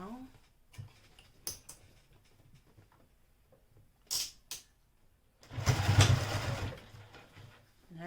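A sewing machine top stitches close along a pocket edge while making a small Tribiani bag, a couple of seconds of steady whirring run near the end, with someone talking in the quieter stretches before it.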